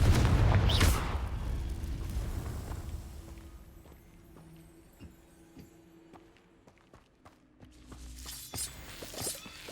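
A Confringo blasting spell detonates in Hogwarts Legacy, a loud booming explosion at the very start that decays into softer scattered clatters and thuds, followed by faint footsteps-like taps and a rising whoosh near the end.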